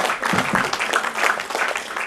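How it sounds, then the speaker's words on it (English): Dense, steady applause from a crowd at an awards ceremony, a continuous wash of many hands with some voices mixed in, sustained at a moderate level throughout. "you need to applaud each and every person"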